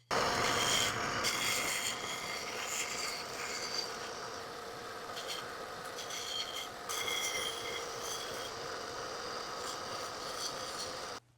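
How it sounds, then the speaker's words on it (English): A power sander grinds steadily against a small wooden sock monkey to round off its rough edges, a loud continuous rasping whine that holds for about eleven seconds with slight surges and no speech. "I'm going to take it to a different sander and see if I can round it off even more without it being so rough"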